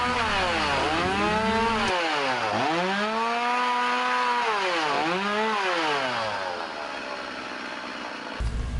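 A chainsaw engine revs up and down in long swells while cutting wood, loud and close, with no voices, then cuts off abruptly near the end.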